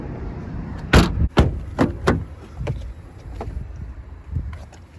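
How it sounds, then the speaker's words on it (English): Rear back seat of a 2018 Honda Accord Touring being folded down, with a few sharp thumps and clunks of latches and cushion close by, followed by softer rustling knocks. "we'll fold this back seat so I can show you"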